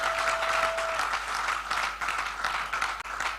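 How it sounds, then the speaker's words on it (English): Audience applause after a speaker at a 2024 business summit conference, a dense steady wash of many hands clapping that fills the room throughout with no speech. "Please, a better round of applause for Coach Tade Cash."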